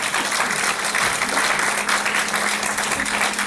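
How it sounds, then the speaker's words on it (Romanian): An audience at an outdoor anniversary concert in Vulcan, Hunedoara, Romania, applauds the town's mayor: dense, steady clapping from a crowd that carries on without a break for several seconds. "Domnul primar Gheorghe Ile, primarul municipiului Vulcan, să-l aplaudăm!"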